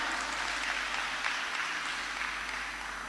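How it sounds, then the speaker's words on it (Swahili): Church congregation at a Kikuyu service of P.C.E.A. Thika Town Church clapping as the children leave for church school, a steady, fairly faint wash of applause with no talk. "Watoto church school, tuwapigie makofi wanapoondoka"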